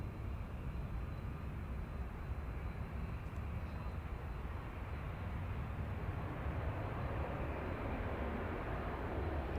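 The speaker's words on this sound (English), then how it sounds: "Aer Lingus is just touching down from Belfast." An Aer Lingus jet in from Belfast touches down at Manchester Airport in the evening, making a continuous broad, rumbling engine roar that holds steady throughout.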